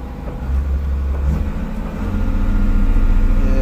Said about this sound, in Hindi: पुरानी मॉडल मशीन है तो इसमें भाई इसका रेस का लीवर ये दिया है, ये इसको इधर को करेंगे तो भाई रेस बढ़ेगा अपना